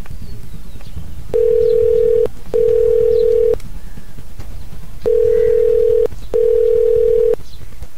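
Four evenly spaced, loud ringback tones sound through a phone as a call rings unanswered, each about a second long with short pauses between.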